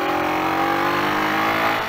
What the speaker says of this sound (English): this is a Honda CG125 engine in all but name, I guess. It's a Chinese built one